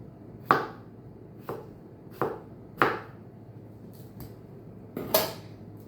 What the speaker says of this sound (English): cucumbers are all peeled, so I'm going to start slicing them now.